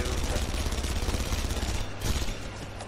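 Rapid gunfire in a video game, aimed at the player, forms a dense, continuous barrage of overlapping shots that stays loud throughout with a brief surge near the end.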